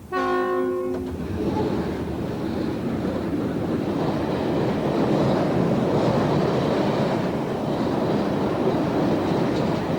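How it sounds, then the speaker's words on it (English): A 108-wagon, one-kilometre-long northbound freight train descends the Raurimu spiral in New Zealand, opening with a loud sustained horn blast before giving way to a continuous, close, heavy rumble of wagons rolling past. "Train 616, northbound coming down the Raurimu spiral, 108 wagons and 1 kilometre long."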